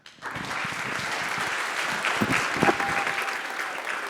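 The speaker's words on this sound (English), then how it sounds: "Please give all of our teams a round of applause." Audience applause at a summer program finale event, a sustained, even round of clapping from a room of people, fairly loud, with a few cheers rising near the middle.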